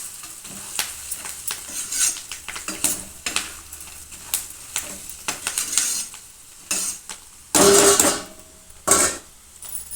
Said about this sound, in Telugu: కరివేపాకు కూడా ఆయిల్లో రోస్ట్ అవుతుంది కదా అండి,